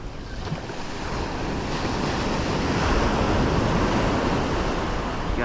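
Ocean waves breaking on a Florida beach, a loud continuous wash of surf mixed with wind buffeting the microphone, swelling slightly toward the middle.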